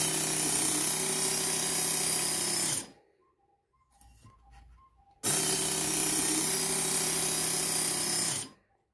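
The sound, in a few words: knife sharpened on Work Sharp Mk.2 knife and tool sharpener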